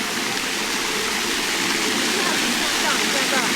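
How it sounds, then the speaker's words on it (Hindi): Park water fountains splash continuously, a dense, loud wash of falling water filling the whole stretch with no pauses and no other sound standing out. "आपको पानी की आवाज़ आ रही है भाई?"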